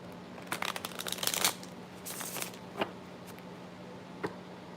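Tarot cards being shuffled by hand during an astrology reading: a quick run of crisp riffling flutters, then a second burst, followed by a couple of single soft card snaps, close and fairly quiet.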